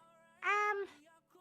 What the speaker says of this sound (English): where the fuck is that cat?